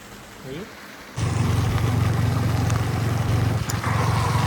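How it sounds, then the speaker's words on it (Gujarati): Steady rain in a village with a low, constant rumble, starting abruptly after a short quieter stretch with a brief voice-like sound. "વરસાદ આવે"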